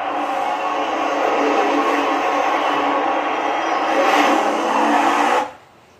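Cars in the Colossus road race in Forza Horizon 5 roar past as a loud, steady engine drone that swells slightly and then drops away sharply near the end.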